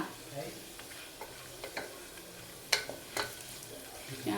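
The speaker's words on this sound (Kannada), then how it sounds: "ನೋಡ್ಬೋದು ಫ್ರೈ ಆಗ್ತಾಯಿದೆ" Ingredients for ghee rice frying in a pan: a soft continuous sizzle with scattered clicks and scrapes of stirring, some sharper taps standing out, close and moderately quiet.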